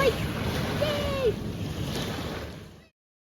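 Waves washing onto a lake beach at Michigan City, Indiana, a steady broadband wash under wind with a brief voice, ending abruptly.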